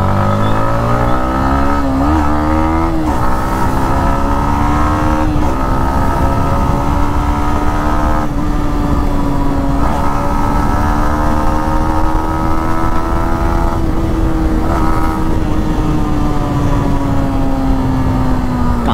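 2022 Yamaha MT15 V2 motorcycle being ridden, heard up close and loud: the engine revs climb repeatedly through the gears, then settle into a sustained high-pitched drone while riding.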